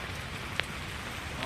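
Rain falls steadily on Jalpally lake, a continuous soft hiss of drops on the water with a couple of brief sharp ticks, heard close and even throughout.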